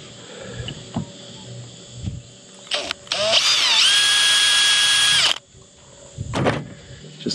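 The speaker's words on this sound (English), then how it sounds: "I am going to drill the highest point" A small power drill with a 1mm bit whines in short bursts, then runs steadily for a couple of seconds at a high pitch before stopping, with handling noises around it.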